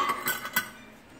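Bowls and utensils being set aside for washing in a kitchen, with a few close, light clinks and clatters of cutlery and dishware in quick succession that fade out.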